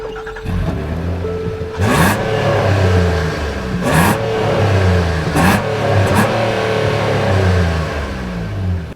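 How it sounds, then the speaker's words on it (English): A 2024 Infiniti QX60 SUV's V6 engine idles with a steady low rumble, then revs up sharply several times in quick bursts, each roar rising and falling back, close and loud. "Let's see how this engine sounds."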